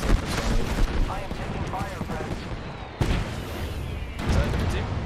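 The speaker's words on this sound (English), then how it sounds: "I am taking fire, friend." Gunfire rattles through an Apex Legends firefight, with dense bursts of shots and sharp cracks. There is a sudden loud crack near the three-second mark, more bursts follow, and game voice chatter sits underneath.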